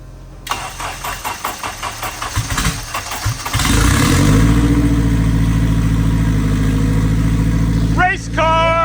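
A Honda CRX with a turbocharged K20A2 engine and all-wheel drive cranks in a quick rhythmic series, catches, and roars into a loud, steady rev close by, ending with a brief change in pitch.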